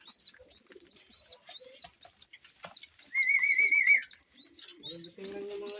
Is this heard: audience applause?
no